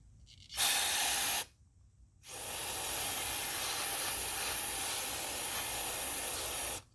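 Brake cleaner is sprayed onto a Thor speedway drill in two aerosol bursts, a short hiss followed after a pause by a longer steady spray lasting several seconds, close and alone.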